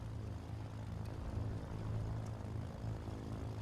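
A twin-engine propeller aircraft in Microsoft Flight Simulator as the right engine starts, a low steady droning hum and engine tone, fairly faint and even throughout.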